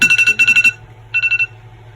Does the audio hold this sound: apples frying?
no